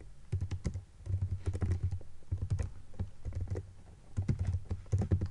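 Fingers type on a computer keyboard in quick bursts of clicky keystrokes separated by short pauses, close and fairly quiet, with no voices.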